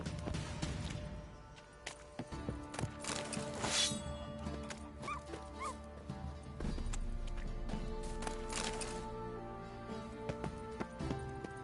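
A horse in The Witcher 3 whinnies and clip-clops, hooves striking in uneven bursts with sharp neighs, fairly close amid game background sound.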